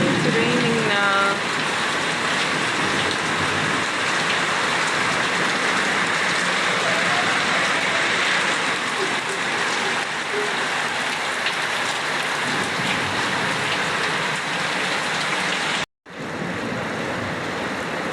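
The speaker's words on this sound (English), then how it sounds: "It's raining now." Steady rain pours down in Zimbabwe in a constant hiss, close and even throughout, ending with a brief dropout before the patter resumes.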